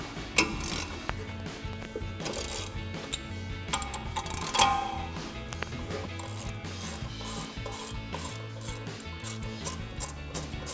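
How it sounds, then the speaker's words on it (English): Ratchet work removing the two 21mm caliper bracket bolts on the back side of a 2019-2024 RAM 1500's brakes, with close, steady clicking and rubbing metallic mechanism sounds running throughout at moderate level. "next we're going to take our caliper bracket off. It's gonna be two 21mm bolts on the back side here"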